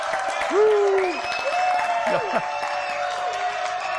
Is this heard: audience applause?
yes